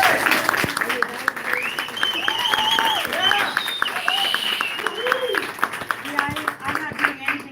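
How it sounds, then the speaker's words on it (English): An audience at a campaign speaking event in Grove City, Ohio applauds, with sustained clapping throughout and a voice speaking over it near the end. "So the applause is to you, right?"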